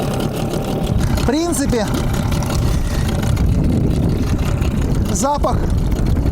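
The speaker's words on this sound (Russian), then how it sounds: "Пусть мотор сейчас поработает" A two-stroke outboard boat motor running cheap two-stroke oil idles at trolling speed, giving a steady, continuous low rumble throughout. Someone speaks briefly over it twice.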